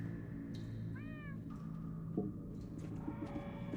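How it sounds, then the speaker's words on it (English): A cat meows in the Minecraft: Story Mode video game, with a clear, drawn-out meow followed by fainter mews over a low game ambience. "I'm hearing cats."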